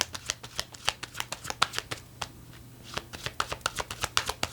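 Tarot cards riffle and snap in quick bursts, shuffled close to the ear, then a short pause before more rapid flicking and drawing of cards, with no voice over them.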